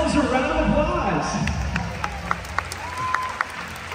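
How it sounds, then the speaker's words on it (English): An audience claps for a nighttime SeaWorld Shamu show, a burst of applause and crowd noise that fades within a couple of seconds, with scattered sharp sounds and voices after. "Why don't we go ahead and give yourselves a round of applause?"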